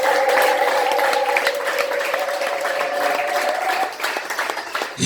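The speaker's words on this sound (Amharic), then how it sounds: "አጨብጭቡ ለጌታ ክብር።" A church congregation claps their hands together in loud, steady, sustained applause that fades toward the end, while a held musical tone runs underneath.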